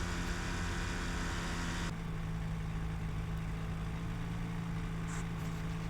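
The engine of a Quad City Challenger II ultralight aircraft idles at low RPM, a steady dense drone with a constant low hum, close and continuous with no talking.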